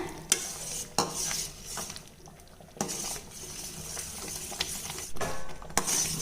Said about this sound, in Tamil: வெள்ளை ரவைக்கு மட்டும் எப்பயுமே நம்ம கைவிடாமல் கிளறிக்கணுங்க